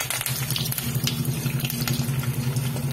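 Garlic and curry leaves dropped into hot oil for bitter gourd stir-fry, a soft continuous sizzle with scattered crackles over a low steady kitchen hum, no talking.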